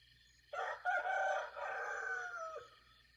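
A rooster crows once, clear and fairly close, around 4:24 in the morning on a homestead, with a faint outdoor background before and after.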